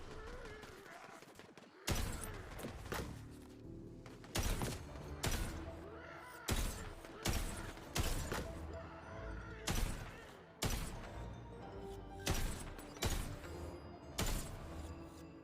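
Sniper rifle fire in the video game Tiny Tina's Wonderlands: about a dozen loud, sharp shots spaced a second or so apart, each a heavy booming crack with a short tail, heard alone.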